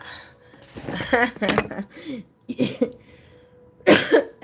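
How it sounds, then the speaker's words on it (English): A person clears their throat and coughs several times in rough bursts, with short pauses between, close to the microphone. "Let me clear my throat."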